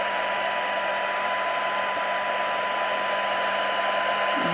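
A heat tool blows continuously for heat embossing on a crafting project, giving a steady, even whirring hiss with no breaks, close and constant throughout.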